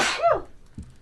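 A single sharp sneeze bursts out close by, loud and brief, followed by a faint short breath in an otherwise quiet room.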